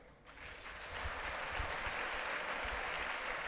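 An audience of children and guests claps at an Independence Day gathering at Sri Channabasaveshwar Gurukul in Kardyal. The clapping swells after a short quiet start and holds steady and dense to the end.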